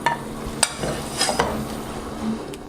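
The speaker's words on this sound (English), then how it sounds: "I'm going to go ahead and add approximately 50 grams of butter to the frying pan." Butter sizzles softly in a frying pan, a steady low crackle with a few sharp clinks of utensils against the pan.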